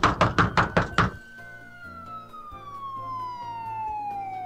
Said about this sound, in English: Siren. Okay, guys, be careful. It might be loud.